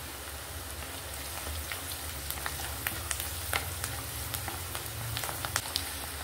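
Onions sizzle in a pan with turmeric, giving a steady, close crackle of frying with scattered sharper pops and no talk.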